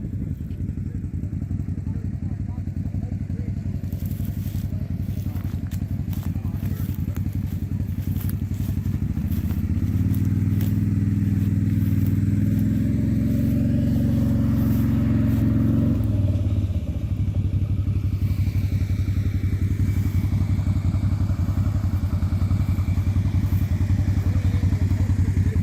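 Suzuki Eiger ATV engine running steadily on a trail near Lingham Lake, a continuous low drone that swells louder midway as the rider pushes along, with faint clatter and bumps from the rough ground.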